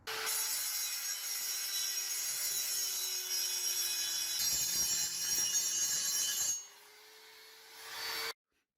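A grinder works a turbo exhaust manifold for a Miata MX5 NC turbo build, giving a steady, loud abrasive whine for several seconds before dropping to a quieter tail and cutting off.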